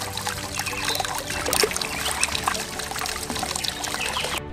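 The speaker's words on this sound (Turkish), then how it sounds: "Köy çeşmesinin sesi geliyor kulağımıza. Şırıl şırıl akıyor suyu." Water trickling and splashing steadily from a village fountain in Kavaklı, Durağan, Sinop, Turkey, close and continuous, with faint outdoor background sounds around it.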